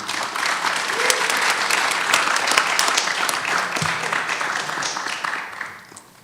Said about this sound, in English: If you could welcome these folks with a round of applause, that would be amazing.